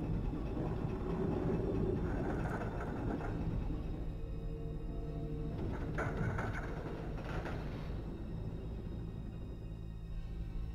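A tram in the video game Resident Evil 2 runs with a steady low rumble and rolling rail noise, plus faint clanks and hiss, continuous for the whole stretch with no talk.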